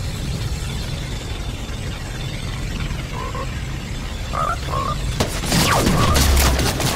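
Fortnite combat: a steady wash of background noise breaks into a sudden run of sharp gunfire bursts and a booming grenade blast near the end. The sounds are loud and close, with no clear talk over them.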